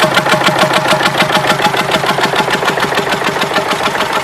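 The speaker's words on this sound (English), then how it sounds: "Another diesel, another Southern Cross diesel." A Southern Cross diesel stationary engine of about 4 horsepower runs at a steam rally, a loud, close, steady thumping beat with rapid even firing pulses throughout.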